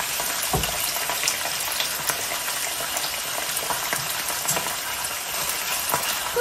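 Venison or beef sizzling as it pan-fries, with a steady, loud bed of frying crackle and scattered pops throughout, no voices.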